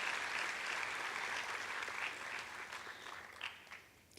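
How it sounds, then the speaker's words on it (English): An audience at an international peace lecture claps together: a sustained, even wash of applause from a large crowd that tapers off slightly toward the end. "A round of applause, ladies and gentlemen."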